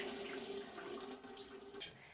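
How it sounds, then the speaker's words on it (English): Water runs steadily from opened household taps as the home's plumbing is drained, a soft, continuous stream heard alone at low volume. "Next, turn on the taps and drain the water."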